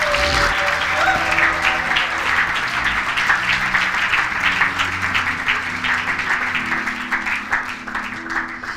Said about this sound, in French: Est-ce qu'on peut encore acclamer pour le roi des rois?